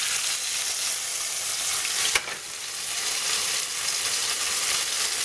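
Spiced ostrich steak sears in a hot pan, giving a steady, loud, close sizzle throughout, with one brief scrape or knock partway through as the meat is moved around.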